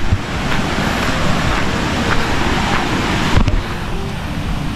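The Talon Pari Falls waterfall in Doña Remedios Trinidad, Bulacan, pours in a steady broadband rush, close and continuous with a dense hiss and low rumble, no voices.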